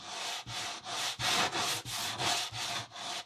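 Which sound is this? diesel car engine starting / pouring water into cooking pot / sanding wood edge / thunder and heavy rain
sanding wood edge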